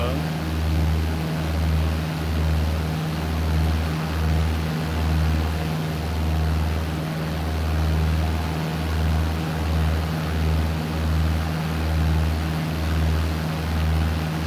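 Steady airliner cabin drone in flight, a low engine rumble that pulses rhythmically with a broad hiss above it, continuous and fairly loud throughout.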